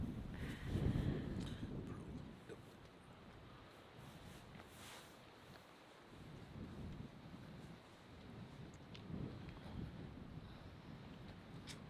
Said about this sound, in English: The wind just picked up too.